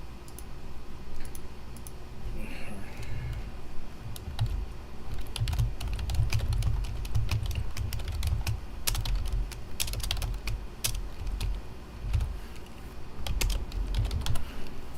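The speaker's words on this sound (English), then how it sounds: "I might end up just typing in chat" Steady computer-keyboard typing runs throughout, a dense stream of quick clicking keystrokes close to the mic over a low background rumble, with no talking.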